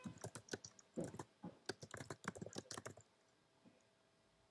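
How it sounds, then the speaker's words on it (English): Slow, uneven typing on a computer keyboard, with irregular clusters of close, crisp key clicks for about three seconds, then near silence. "You'll need to excuse my slow typing skills here."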